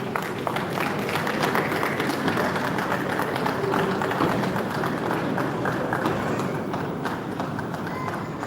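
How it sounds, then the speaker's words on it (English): An audience applauds at a peace accord signing ceremony in Edo State, the clapping dense, loud and continuous throughout, a steady wash of many hands with no break. "Please, a round of applause as you come to us."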